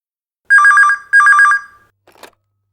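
A telephone rings in a home during a Malayalam comedy serial scene: two loud, close electronic ring bursts, each about half a second with a trilling pulse, then a brief faint clatter as the call is answered.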